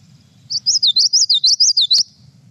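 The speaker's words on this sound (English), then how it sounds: "I'll play the common yellow throat again." A common yellowthroat sings one clear, loud phrase of about eight quick repeated rolling notes in an even rhythm, isolated against a quiet low hum.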